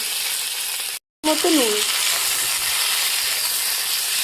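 Cauliflower, potato and eggplant frying with turmeric and salt in a pan: a steady, loud sizzle and hiss runs throughout, broken by a brief silent gap near the start, with a faint voice-like murmur just after it.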